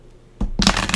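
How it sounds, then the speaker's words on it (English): Tarot cards being shuffled by hand, a short burst of quick papery riffling and flapping heard close and fairly loud after a brief tap, with no talking. "Let's give them a good shuffle."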